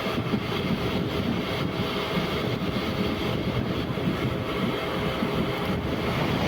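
A MEMU train runs at night between Punalur and Kollam, a steady, dense rumble and rattle of the carriage that holds at an even loudness throughout without pause.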